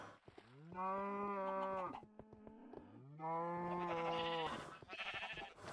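Two long, loud, harmonic low calls from Minecraft livestock, sounding more like cattle mooing than sheep bleating, each about a second long and separated by clicky rustling and footstep-like taps, with no talk.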